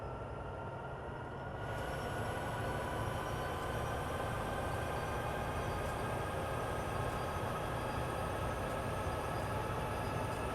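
A push-pull train in Train Sim World 2 on Sherman Hill between Cheyenne and Laramie, starting to move with a steady, dense rumble and faint tonal hums that swell slightly after the first moment and then hold evenly.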